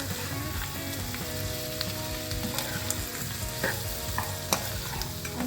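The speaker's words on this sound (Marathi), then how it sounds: "आता बटाटा टाकू चांगला परतून घेऊ" Potato pieces sauté in a hot pan, a constant crackling sizzle with intermittent spatula scrapes and small clicks, close and fairly quiet, with a faint hum beneath and no talking.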